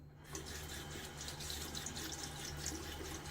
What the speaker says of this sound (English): I'm going to try to fill this guy up with water.